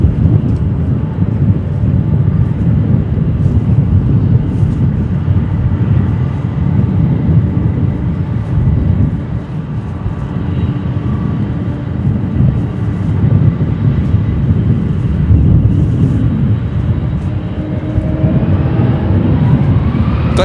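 A plane taking off at Chicago O'Hare airport gives a loud, continuous low roar with broadband rumble and some wind buffeting on the microphone, sustained throughout with no talking.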